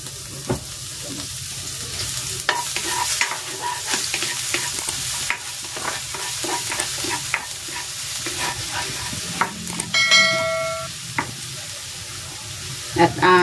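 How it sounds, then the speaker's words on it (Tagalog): Garlic sizzles in hot cooking oil in a pan, a steady frying hiss with repeated scraping stirs and utensil taps close by. "Igigisa ko na tong bawang."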